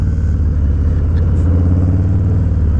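A 2020 Harley-Davidson Low Rider S motorcycle engine idling close and loud, a steady deep rhythmic rumble with no talk.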